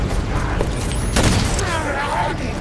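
Gunfire from jackal enemies in the Halo 5: Guardians campaign, a short burst of loud shots and booms layered over dense game noise and music, with a brief voice behind.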